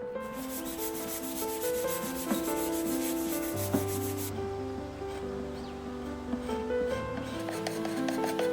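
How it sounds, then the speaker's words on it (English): A SurfPrep 3x4 electric sander works over the wood of an antique dresser, giving a steady close rubbing, abrasive whir with a sustained motor hum and slight shifts in pitch, heard alone. "using the SurfPrep 3x4 electric sander"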